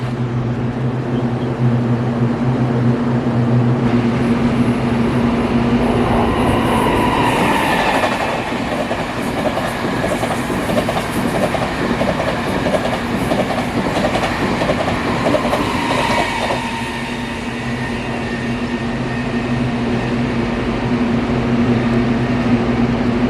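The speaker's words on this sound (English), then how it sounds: "So the first one was a Zixianhao, which is a type of express train" A Taiwanese Tze-Chiang express train rushes past close by, a loud rumbling roar with rhythmic clattering wheels that builds, holds for several seconds, then fades to a steady hum.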